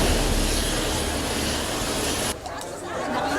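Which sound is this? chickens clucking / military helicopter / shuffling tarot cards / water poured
military helicopter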